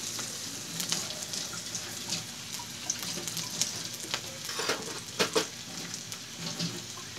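Onion and garlic frying in a pan while being stirred, a continuous crackling sizzle with intermittent spatula scrapes and knocks, near and without talk.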